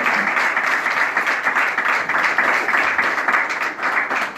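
Audience applauding a Congolese musician, a dense sustained round of clapping from a sizeable crowd, loud and close, steady for the whole stretch.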